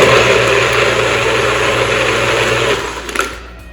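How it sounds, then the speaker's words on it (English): A NutriBullet blender whirs through a smoothie of almond milk and ice cubes, a loud close, steady motor drone that runs evenly and then cuts off, leaving a few clattering knocks. "and blend in the NutriBullet."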